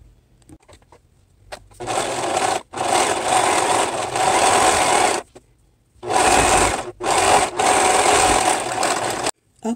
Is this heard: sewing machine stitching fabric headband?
yes